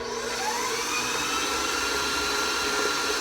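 A stand mixer runs steadily while mixing strawberry cupcake batter, a continuous loud whirring motor hum with no pauses and no talk.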